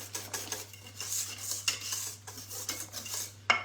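Utensil scraping and clinking against a bowl while stirring cake batter for a moist pear and chocolate cake, in quick, uneven strokes that are close and clear, with no talk.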